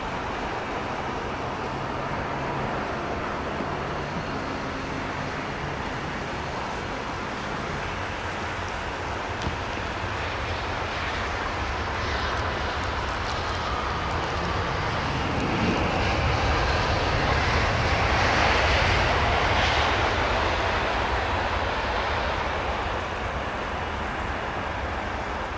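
An airliner engine spinning up and lighting at London Heathrow, heard as a broad steady roar that swells louder midway, with faint airport background and no talking.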